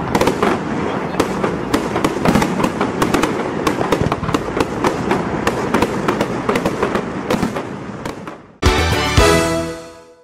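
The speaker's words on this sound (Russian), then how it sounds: "Завершился День города впечатляющим по своей красоте и масштабности праздничным салютом." Rapid crackling bursts of a city-day festive fireworks salute pop and bang continuously, dense and loud, ending in a sharp boom followed by a fizzing, crackling shower.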